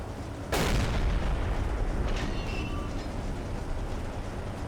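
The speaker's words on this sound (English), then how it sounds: "Another good shot and another explosion on board." A single sharp, loud boom with a long rumbling tail rolls across a ship hit by U-boat fire in the Silent Hunter 3 game, followed by fainter crackles over steady low background noise.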